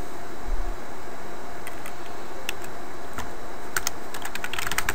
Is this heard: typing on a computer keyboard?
yes